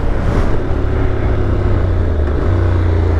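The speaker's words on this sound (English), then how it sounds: "It gives a little bit of a boom on that downshift." A 2021 Honda NC750X with its standard exhaust rumbles continuously and loudly close by while riding, with a deep low drone and a subtle boomy swell on a downshift.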